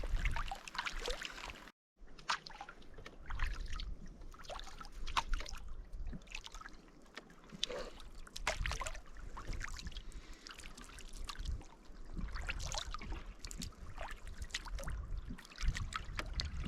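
Canoe crossing a river in the Ontario wilderness, with soft paddle splashes, drips and water trickling off the blade in an irregular rhythm, close by, over steady low outdoor rumble.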